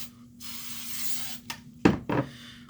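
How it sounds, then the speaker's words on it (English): Hairspray aerosol misting onto hair in a couple of short bursts, following a longer softer hiss, close and alone with no talking. "just give it another quick little spray"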